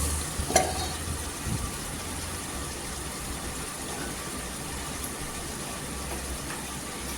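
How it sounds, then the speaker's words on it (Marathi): Masala with biryani and Agri spice blends frying in oil for soybean pulao, giving a steady, continuous sizzle with a brief clatter near the start and no voices. "इथे छान असं तेलावर आहे ना मसाला परतून घ्यायचा पूर्णपणे"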